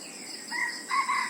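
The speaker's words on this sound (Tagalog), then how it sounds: "Tapang na tilaok. Ang ganda ng tilaok." A rooster crows in two short bursts, the second louder and more drawn out, heard at moderate distance over a faint steady insect hum.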